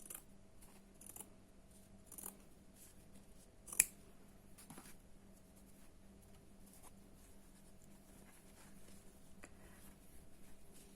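Scissors cut through flannel fabric while making thick woven-sole slippers, giving a few quiet, scattered snips over a low steady background hum.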